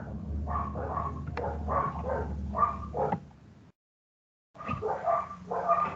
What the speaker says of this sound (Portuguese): dos barulhos dos cachorros na rua